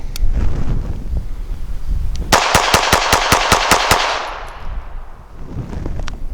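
A S&W Performance Center Shield EZ .380 pistol fires about nine quick, evenly spaced sharp shots outdoors, loud and close, with a trailing echo and wind noise before and after.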